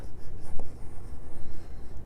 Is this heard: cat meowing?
no